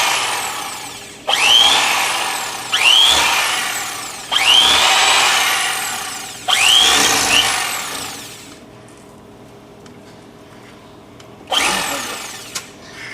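A Mr. Twister electric fillet knife whirs in four loud, even bursts of about two seconds each while cutting pin bones from a fish fillet at an angle, then falls quiet before one last short burst.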